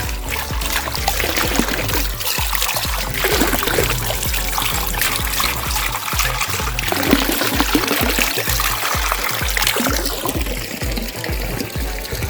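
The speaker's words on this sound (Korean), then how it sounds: "네, 나무통에서 물이 나오고 있는데요" Spring water pours from a wooden bamboo spout at a Buddhist temple in Busan, a steady close-up trickle and splash that runs unbroken and fairly loud.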